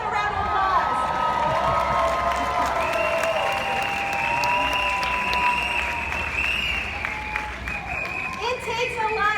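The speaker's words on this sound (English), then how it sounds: "Everyone give them a round of applause." An audience at the WFG Champions Bowl event in Las Vegas breaks into a loud, sustained round of applause with cheering and whoops, filling the hall for the whole stretch while voices call out over the clapping.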